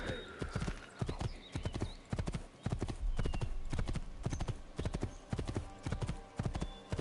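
Steady clip-clop of horse hooves trotting in an even rhythm in the video game Assassin's Creed II, crisp and close, with a faint whinny over a constant background.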